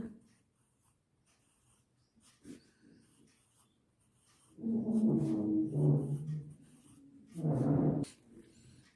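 Hindi letters are written by hand on a board in a kindergarten class, giving soft intermittent scratching and rubbing strokes with quiet pauses, ending in a few louder, longer drawn strokes.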